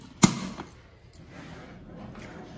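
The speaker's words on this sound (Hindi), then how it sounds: "अब मैं इसको क्लोज कर रही हूं," An electric kettle lid snaps shut with one sharp, close click, followed by faint handling noises and a couple of softer knocks against a quiet background.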